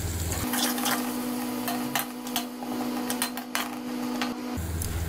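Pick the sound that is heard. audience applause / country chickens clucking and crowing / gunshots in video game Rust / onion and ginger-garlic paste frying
onion and ginger-garlic paste frying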